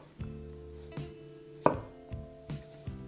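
A kitchen knife chops down through an onion on a cutting board, with about six sharp, separate thuds spaced irregularly across a few seconds. The strokes are close and fairly loud, and no one speaks.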